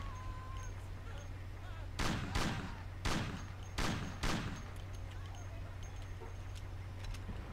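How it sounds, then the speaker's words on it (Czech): Five sharp pistol shots from a Colt, fired from a moving car in the game Mafia, come in an uneven burst over a steady engine drone. "Z auta můžeš za jízdy střílet. Pokud řídíš, můžeš použít jen pistole. Vyber si Colt a zkus si to."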